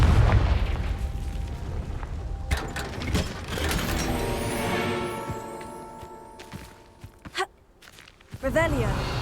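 Confringo explosion spell in Hogwarts Legacy: a heavy, rumbling blast opens and another crack follows, decaying into a ringing, mechanical tail with short clicks and a shrill whoosh toward the end.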